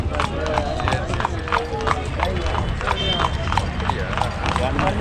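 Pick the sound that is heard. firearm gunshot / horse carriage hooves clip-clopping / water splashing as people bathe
horse carriage hooves clip-clopping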